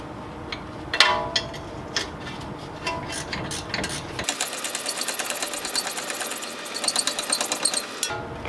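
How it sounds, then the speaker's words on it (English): A speed wrench with an 18mm geared socket spins off a front brake bolt on a BMW 335i, giving a fast, steady mechanical whirring and ratcheting that runs close and loud for several seconds after a few sharper clicks. "once you crack it loose, you can switch over to your speed wrench"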